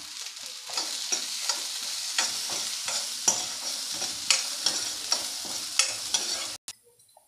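Orange peel sautés in a pan, a steady sizzle broken by repeated scraping stirs at a loose, regular rhythm, close and fairly loud, ending in a brief near-silence.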